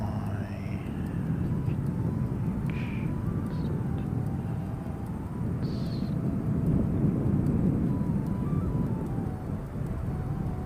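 A fixed-wing aircraft at an airport rumbles past with a broad, steady roar and low-frequency rush, fairly distant and sustained, with a faint whining engine tone drifting in pitch.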